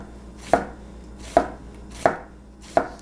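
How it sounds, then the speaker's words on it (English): A knife cuts an onion into very thin slices on a cutting board, four crisp chopping knocks landing at a steady, unhurried pace, close and clear with no talking. "just cut super thin, going all the way across the entire onion."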